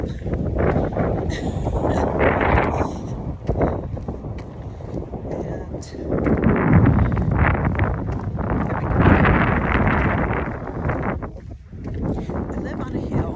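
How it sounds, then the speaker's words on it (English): Wind gusts buffet the microphone while walking outdoors up a hill, a loud steady rumble with louder blasts, heard alone without talk. "get us through this little wind tunnel where things will settle down, I hope."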